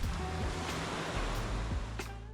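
Ocean surf rolls onto a Fort Lauderdale beach in the morning, giving a steady, close, full wash of breaking waves with light wind noise throughout.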